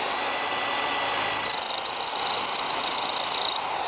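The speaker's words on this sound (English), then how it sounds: "I'm using an electric drill" An electric drill boring into alabaster during a craft recreation of 18th-century carving, a steady high whine with grinding texture, running close and continuous for several seconds before easing slightly at the end.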